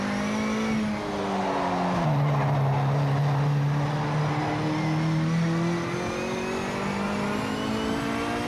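A race car's brakes lock up in Project Motor Racing, giving a sustained, wavering tyre squeal of several seconds over the droning, revving engine, loud and close with no talk.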